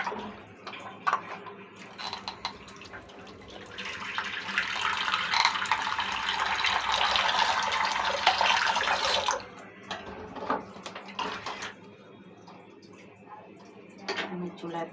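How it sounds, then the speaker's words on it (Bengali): Milk is strained and poured into a pot of cooled caramel, a steady liquid pouring rush lasting several seconds, with scattered kitchen clatter and handling noises before and after. "আমি দুধটাকে ছেঁকে দিব।"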